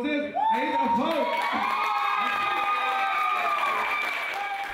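A concert crowd applauds and cheers a band, loud and sustained clapping with whoops rising at once and thinning slowly near the end. An announcer's voice rings out at the start.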